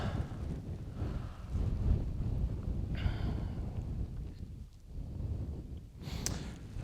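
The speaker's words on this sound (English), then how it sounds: "The wind is picking up again." Wind at a desert campsite in Namibia buffets close by, a low, rumbling, uneven rush that dips briefly before rising again, fairly faint.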